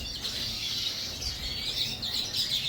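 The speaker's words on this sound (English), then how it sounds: "here we have a few mealy red pole young birds" Young mealy redpolls in an aviary give a soft, continuous chorus of high twittering calls, faint and steady over low background noise.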